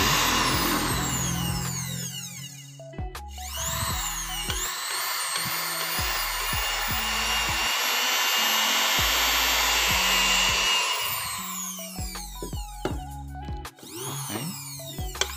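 A cheap sewing machine dynamo motor running on its own, a loud steady whir with a rising whine, sped up and slowed a few times with abrupt stops and restarts.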